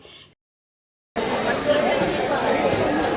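A busy trade fair hall gives off a dense, continuous babble of many people talking at once. It cuts in abruptly after a brief voice and a second of silence.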